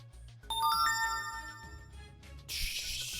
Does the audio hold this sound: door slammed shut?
no